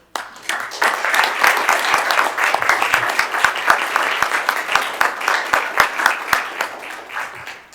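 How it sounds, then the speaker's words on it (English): Audience at a county board of commissioners meeting applauding, a steady mix of individual hand claps with distinct sharp hits, close and moderately loud, sustained for several seconds before tapering off. "a salute and a thank you applause for a good job well done"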